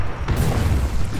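A grenade explosion in a first-person shooter game, heard as a loud, sustained low boom that rumbles on for about a second.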